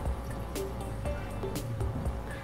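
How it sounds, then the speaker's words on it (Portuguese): Water begins to run into a PC case cooling mod, with close, light drips and a trickle that repeat unevenly over a steady background. "Começou a correr água."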